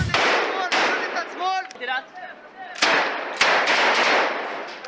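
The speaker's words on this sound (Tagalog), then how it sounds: "Sunod-sunod tuloy ang dagundong ng mga pasabog." Successive blasts from Israeli bombardment in central Gaza crack and boom one after another, sharp and fairly close, with rumbling decay and a few fainter pops between the louder hits.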